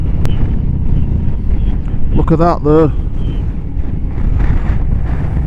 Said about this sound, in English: A bit windy up here.